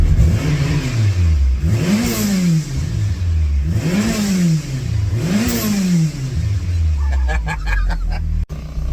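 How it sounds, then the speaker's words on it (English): Car engine revved three times in a row, each rev rising sharply in pitch and dropping back to idle, loud and close, with a brief clicking at the end. "let's give it a little rev so you can hear what it sounds like"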